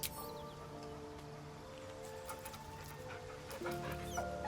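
A dog whimpers and yips softly in Baldur's Gate 3, heard over steady game music with tonal pads, the whining brief and faint against the score.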